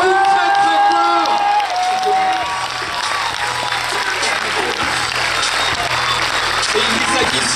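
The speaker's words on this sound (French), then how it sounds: "Suit, bien sûr, Pierre et Larissa, on les applaudit très très fort." An audience at a film premiere applauds loudly and continuously, a dense wash of clapping with crowd noise and a few voices calling out over it.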